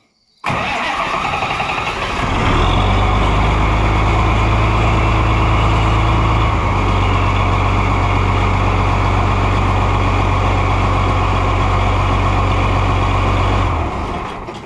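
An Oliver tractor engine cranks briefly on its starter, then catches and runs at a steady loud idle with a deep, even low drone for the rest of the stretch, close up and alone.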